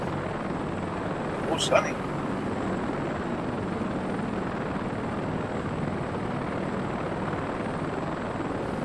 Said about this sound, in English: Even Sonny's flying a Westland Scout.